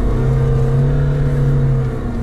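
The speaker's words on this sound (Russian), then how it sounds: "На первой пониженной будут большие обороты." Lada Niva engine held at high revs in low first gear while climbing a hill, a loud, steady whining drone close up that barely changes pitch and eases only slightly at the very end.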